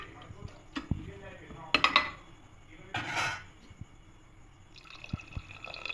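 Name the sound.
stirring khichuri in pot with ladle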